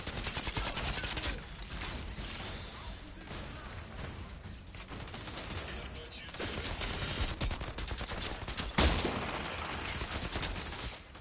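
Sustained gunfire in the shooter game Outriders, with dense automatic bursts and impacts running almost the whole time, one sharp loud blast near the end, and a voice speaking briefly amid the shooting.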